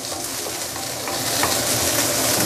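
Loud, steady sizzling of prawns stir-frying in a hot wok, with the food being stirred and scraped around throughout.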